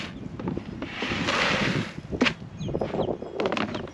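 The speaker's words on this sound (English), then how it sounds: "there's the wind" Gusty wind blows outdoors during a black-eyed pea harvest, a broad steady rush swelling and easing over several seconds with buffeting against the microphone, no voices present.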